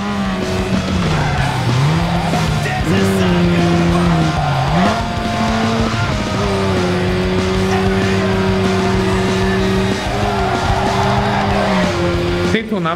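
An RX-8 race car in Need for Speed: Underground 2 on PS2 holds a loud, steady engine drone with shifting pitch, while tires squeal and skid continuously through the stretch.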